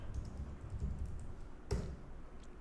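Quick, soft keystrokes on a computer keyboard while typing a terminal command, a short run of light clicks ending in one sharper key press, close and quiet.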